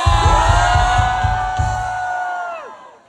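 Loud crowd cheering and whooping, with high yells rising above the noise over a pulsing beat, then fading out.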